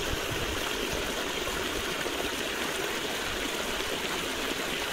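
Water rushes steadily into a farm field channel after running about 150 metres, a dense, even, close stream sound with no pauses and no voices.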